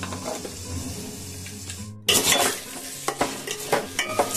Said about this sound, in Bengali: একটুখানি চালগুলোকে ভেজে দেব